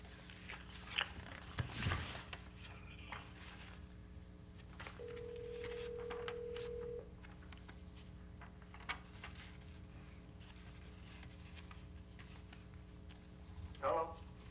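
A telephone call is placed during a remote planning board meeting: a few short dialing beeps, a steady two-second tone, then more beeps near the end, under faint background voices and room noise.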